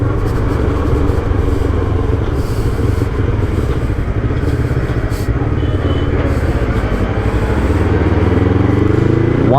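A modified Yamaha R3 motorcycle with flash-tuned ECU rides steadily with a loud, continuous engine drone and wind rush, rising in pitch near the end as it accelerates.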